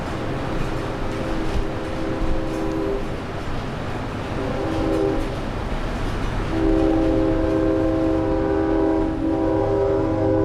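A train rumbles past steadily, its horn sounding in long sustained blasts that return after a brief lull, loud and close.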